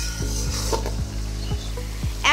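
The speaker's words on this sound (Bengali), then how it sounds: "সসটা দিয়ে আমরা ভালোভাবে আবার মশলাগুলোর সাথে মিশিয়ে নিচ্ছি।" Sauce being stirred into spices in a pan for a chicken roast: a utensil scrapes the pan in about five regular strokes over a steady sizzle, close and moderately loud, with no talk.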